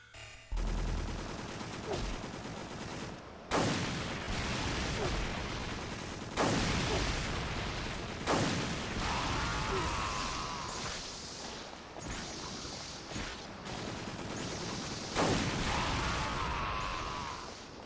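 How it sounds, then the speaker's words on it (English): Repeated explosive blasts from a rocket launcher in the PS2 shooter game Extermination, several sharp loud bursts spaced a few seconds apart, each trailing off into rumbling game noise. "This time around, we're going to switch immediately to the rockets."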